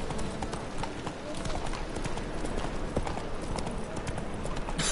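Hooves of the horse Roach in The Witcher 3 clopping in a quick, steady rhythm close by, with a voice speaking over the gait.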